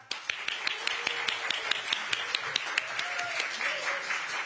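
Scattered audience applause at a political party launch ceremony: distinct, fairly thin claps in a loose, steady rhythm with a faint tonal hum underneath.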